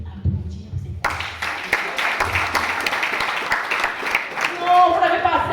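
Applause from an audience at a product presentation for sanitary napkins, a low rumble giving way to sustained clapping of moderate loudness, with talk mixed in near the end.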